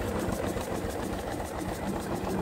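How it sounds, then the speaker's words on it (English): A steam engine drives a single pole self-exciting alternator in an off-grid boiler setup, producing a loud, steady, rapid mechanical chugging hum that continues evenly throughout. "This is a alternator, is a single pole self-exciting alternator."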